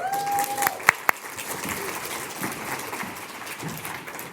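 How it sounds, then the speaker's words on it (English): An audience at a conference event applauds, a spread-out patter of many hands rising after a couple of sharp close claps and a brief electronic tone, continuing at moderate level. "Please, round of applause so the machine works better."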